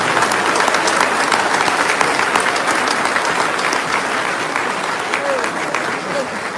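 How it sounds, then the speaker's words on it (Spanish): A congregation at a church gathering breaks into sustained applause, loud, dense clapping that holds steady for several seconds with crowd murmur mixed in. "Aplauso para la hermana."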